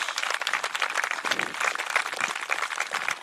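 Dense, steady applause from a large audience at a high school graduation ceremony, many hands clapping continuously and fairly close, with no speech over it.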